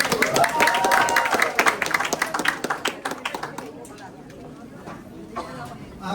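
A church congregation in Taiwan claps for God after a service, giving a dense round of applause that thins into scattered claps and fades under a speaking voice.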